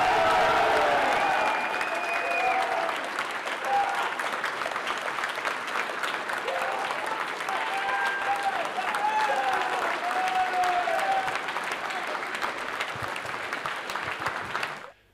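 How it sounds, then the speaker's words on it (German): A large crowd at an alt-right Trump victory celebration roars and shouts continuously, with raised individual voices and clapping rising out of a dense, steady wall of noise. "Man hört die Heilrufe"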